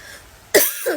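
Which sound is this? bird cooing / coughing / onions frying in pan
coughing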